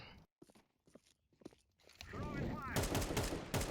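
Sustained automatic gunfire in the tactical shooter Counter-Strike 2 erupts loudly in the second half, following a few sparse, quieter clicks and thuds at the start.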